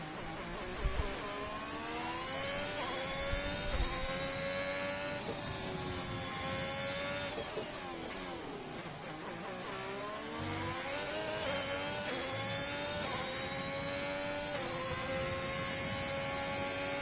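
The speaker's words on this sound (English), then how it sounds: "So Freedom getting the car into the apexes nicely." F1 race car engine in the F1 2021 game during a Netherlands Grand Prix qualifying lap, a loud high-pitched whine rising and falling through gear changes and corners.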